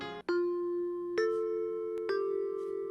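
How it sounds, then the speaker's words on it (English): A school chime in a visual novel rings out as a sequence of clear, sustained bell tones, each new note struck over the lingering ring of the last, alone and fairly loud. "Finally, the chime announces an end to Nanase's hell."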